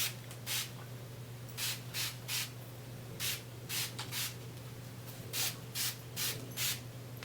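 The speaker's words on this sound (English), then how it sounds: "Okay, so we got that sprayed." A spray bottle fires a dozen short, sharp hissing bursts in irregular pairs onto hair in faux locs over a steady low hum, close up with no talking.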